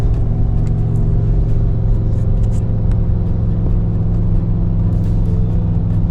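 A Ford F-350 with the 7.3-litre Godzilla petrol V8, towing a Brinkley Z2900 fifth-wheel trailer, drones with a deep, steady engine rumble and road noise from inside the cab after a downshift, continuous and close with no talking.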